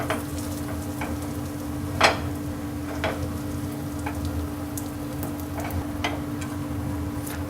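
Spring rolls fry in a pan seam side down, with a steady close crackling sizzle punctuated by irregular louder spits and pops, no voices.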